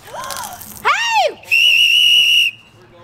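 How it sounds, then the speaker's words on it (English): Pool lifeguards blow loud, close whistles: a warbling trill, then a rising and falling shriek, then one long steady shrill blast held for about a second. "these lifeguards are blowing whistles every chance they can get"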